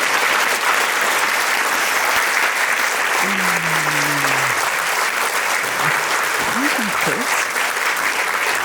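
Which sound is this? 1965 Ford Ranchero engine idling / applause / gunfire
applause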